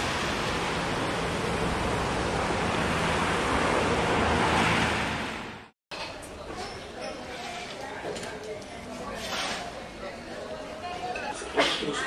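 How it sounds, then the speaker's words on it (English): Pacific Ocean waves and surf along the shore at Lima, Peru, a steady broad roar for about six seconds, then after a brief cut a quieter, airy surf wash with light wind noise. "I'm here in beautiful Lima, Peru, overlooking the mighty Pacific Ocean."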